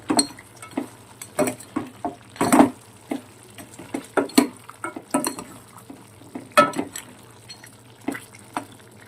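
Tomatoes are stirred into mutton curry with cucumber in a pot, a run of uneven spoon scrapes and knocks against the metal over a faint simmering hiss, close and alone.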